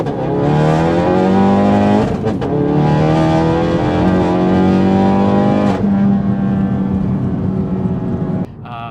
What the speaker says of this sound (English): we're going to start it off with a full 0-60